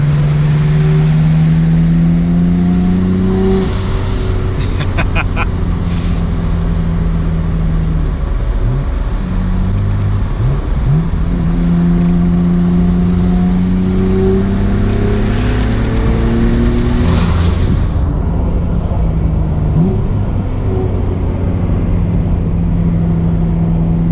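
A car engine revs and accelerates loudly and continuously, its pitch climbing and dropping through repeated gear changes, close and dominant with road roar underneath.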